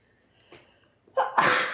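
A single loud, close sneeze indoors during a holiday cookie baking session, preceded by a brief sharp intake of breath.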